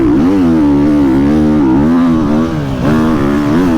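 A Triumph motorcycle engine revs loudly and close up, its steady throaty drone rising and falling in pitch through several throttle blips with no talking.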